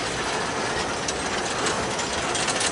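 A long CSX freight train rolls past at night, a steady close rumble of wheels and rail noise filling the whole stretch without letup.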